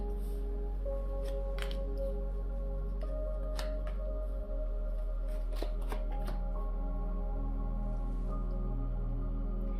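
Tarot cards are shuffled by hand in a quiet room, making soft, intermittent riffling and slapping sounds over a low steady hum.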